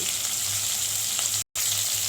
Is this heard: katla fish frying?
yes